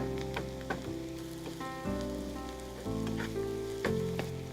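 Paneer frying with onions in a pan, with steady sizzling and stirring sounds over a faint tonal background, fairly close and continuous.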